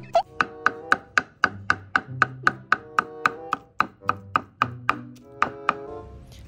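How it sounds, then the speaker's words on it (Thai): Deboned catfish meat is finely minced with a knife on a cutting board, giving about twenty sharp, evenly spaced chopping thunks in a steady, brisk rhythm, close and loud, with no talk. "นำปลาดุกมาแกะก้างออกเอาเฉพาะเนื้อนะครับแล้วก็เอามาสับให้ละเอียด"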